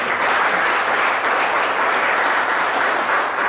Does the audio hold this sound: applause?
yes